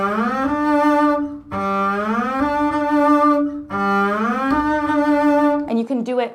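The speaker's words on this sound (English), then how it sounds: "the next kind of shifting sound that you can do is a landed shift" A bowed double bass plays landed shifts, sliding up into notes several times, each shift sweeping upward before settling on a firm, heavy pitch, played alone and close.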